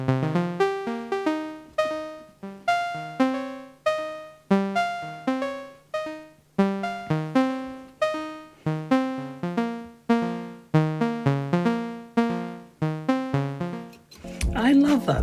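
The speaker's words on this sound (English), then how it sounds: "So low notes are to the left and high notes are to the right." A synthesizer melody sent through a CV panning mixer, with low notes placed left and high notes right, heard as a run of plucky, steadily repeating notes with quick decays, ending in a brief burst of noise.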